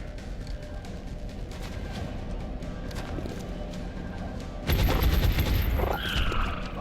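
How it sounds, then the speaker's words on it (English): Gunfire in the video game XCOM Enemy Within, a rapid fusillade of shots that starts moderately then erupts into a louder, denser volley near the end, alongside other game effects. "Why is everyone shooting at Kingdom?"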